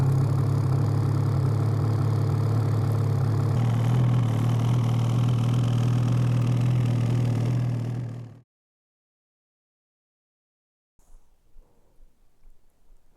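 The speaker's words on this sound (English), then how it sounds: "Let's get this thing fired up and hit the trails." Ski-Doo Freeride 800 snowmobile engine running at a steady, loud idle for about eight seconds before cutting off abruptly, followed by silence and faint distant rustling.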